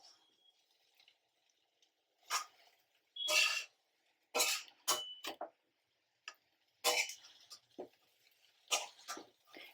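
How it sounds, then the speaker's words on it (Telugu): Egg fried rice ingredients being mixed in a pan, with short irregular scraping and clinking bursts separated by quiet gaps, close and without talk. "ఇప్పుడు మంచిగా కలుపుకోవాలి."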